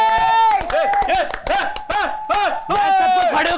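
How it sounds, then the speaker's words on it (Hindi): A studio audience on a reality show claps in quick, sharp bursts beneath loud, rhythmic crowd chanting and cheering, with voices dominating throughout. "सबको खड़े होकर तालियां बजाई दे।"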